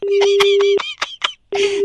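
Telephone keypad tones as a number is dialed, a quick run of several short beeps over a steady tone, then a few separated beeps, a pause and the tone returning, loud and close.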